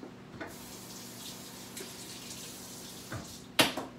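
A kitchen tap runs steadily while hands are washed under it, a soft continuous water rush with a sharp clunk near the end.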